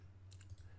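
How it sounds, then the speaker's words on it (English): A computer keyboard gives a short burst of a few quick, faint keystrokes over a low background hum, with no voices. "my keyboard is too loud."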